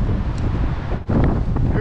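Strong gusts of wind roar across the microphone beside a flooded creek during trout fishing, a loud buffeting rush that dips briefly near the middle and then surges back.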